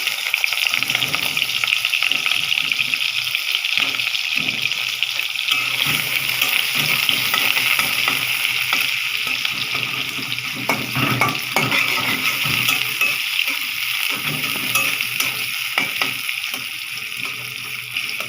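Onions sizzle and fry in a pan while being stirred, with a steady broadband hiss and scattered scraping knocks, loud and continuous throughout with no talking.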